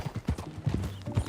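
Horse hooves clip-clopping at a steady walk in the video game Red Dead Redemption 2, a close, regular rhythm of dull thuds with faint ambient noise behind.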